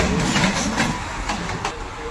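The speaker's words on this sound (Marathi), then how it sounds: "एंट्री करते आहे ट्रेन सी एस टी स्थानकामध्ये" A Mumbai local train rolls into CST station with a steady, rumbling rail roar and faint rhythmic clatter, loud and continuous throughout, with voices faintly audible.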